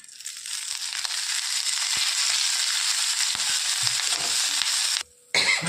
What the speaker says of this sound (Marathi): मिरच्या चिरून झाल्या छानसं भाजून घेणार आहोत आपण थोडंसं थोडंसं तेल टाकून घेणार आहे